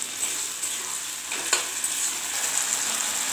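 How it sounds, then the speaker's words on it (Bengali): Egg chilli with tomato sauce stirred in a hot frying pan: steady loud sizzling and frying hiss with occasional soft scrapes of the spoon, no voices. "টমেটো সস, সবগুলো একটু নাড়াচাড়া করে"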